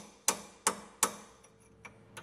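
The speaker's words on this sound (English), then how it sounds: "I'm going to go ahead and use our chisel." A hammer strikes a steel chisel against the hub knuckle of a Jeep WJ: three sharp, evenly spaced metallic blows ring out up close, followed by a few fainter taps.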